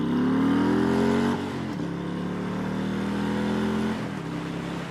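A Harley-Davidson Fatboy 114 V-twin engine drones loud and close, its pitch dropping as the revs fall, then holding steady and easing off again.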